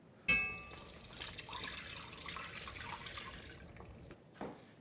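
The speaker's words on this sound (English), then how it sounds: "Now we can add the braising liquid." Braising liquid is poured into a hot skillet of steaks, starting with a sudden splash and then a steady, close hiss and bubbling that lasts several seconds before stopping, with a short splash after the pause.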